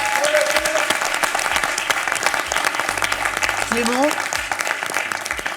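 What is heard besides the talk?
applause for a quiz show finalist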